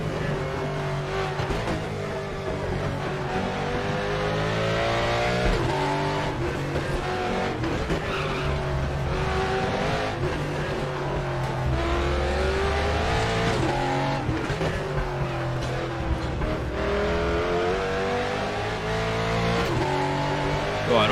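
A Nissan GT-R race car in a racing video game roars and revs through gear changes, with repeated tire squeal and skidding. The engine note rises and falls continuously and loudly over the whole stretch, with faint talk beneath.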